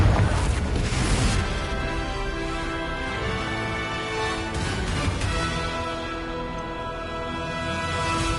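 A fiery Confringo spell blasts in Hogwarts Legacy, a dense rumbling burst that stays loud and sustained for several seconds, with layered crackling impacts and no talk over it.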